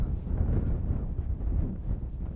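Steady low rumbling strong, cold wind in the mountains of Snowdonia buffets the microphone throughout, a constant roar with no voices.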